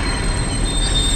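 A runaway rail car from Close to the Sun rolls along the track, a steady loud rumble with a high metallic wheel whine held throughout.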